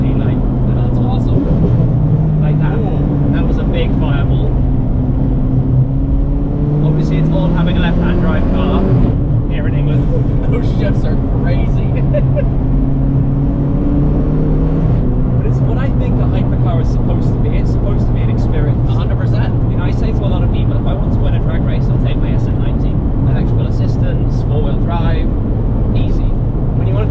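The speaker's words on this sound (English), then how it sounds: "The kind of flutters and all the constant burbles and flame sounds." Zenvo supercar exhaust burbling and rumbling steadily throughout a passenger ride, with engine tones rising and falling and occasional crackles, heard from inside the cabin under almost continuous conversation.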